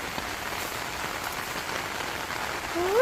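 Steady rain patters on a surface, a dense even hiss of drops that swells slightly louder near the end.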